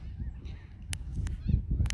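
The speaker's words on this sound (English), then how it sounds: "I believe that was the quail." A few sharp, high calls of a California quail ring out over low rumbling noise, spaced irregularly, on a coastal trail at Marina.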